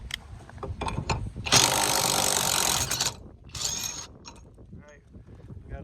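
DeWalt impact wrench removing a nut, a loud rattling hammering burst of about a second and a half, then a shorter burst after a pause, with clicks and handling noise around it.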